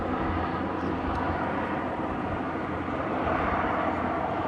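A Qantas Link Dash 8 Q400 turboprop departs, a steady broad roar of propeller engines holding at constant loudness throughout, with no talk over it.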